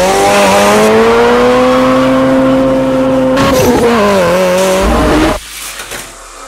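Hot Wheels Fast and Furious die-cast toy cars, including an Ice Charger, racing down a track in a tournament heat, with a loud sustained whirring buzz that shifts pitch before cutting off abruptly near the end.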